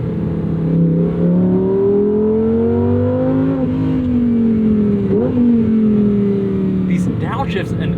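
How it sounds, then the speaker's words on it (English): A 2024 Lamborghini Huracan Sterrato engine revs hard through quick upshifts and downshifts, its loud, close pitch climbing and dropping sharply with each gear change, under someone talking. "These downshifts and upshifts are just immediate."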